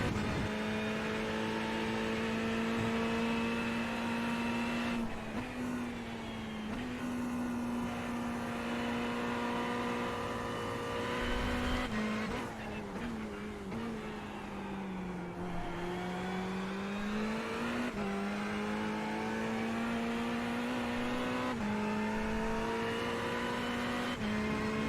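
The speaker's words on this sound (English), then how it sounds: "This car is extremely quick through those last few turns." A race car holds a steady high engine drone while lapping quickly through the last few turns, its pitch dipping and recovering as it brakes and powers out of each corner, loud and continuous with no talking.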